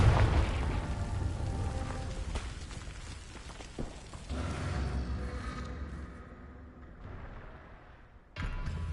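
Confringo blasting spell explosion in Hogwarts Legacy, a heavy booming blast up front that rolls into a long, rumbling, crackling decay with further bursts, loud and close.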